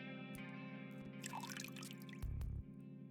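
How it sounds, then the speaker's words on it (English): A bathroom faucet runs in a game scene, with a steady faint stream under scattered drips and watery splashes, plus a brief low thump near the end. "The sound of a running faucet can be heard from the bathroom"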